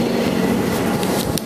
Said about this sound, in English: That train is here.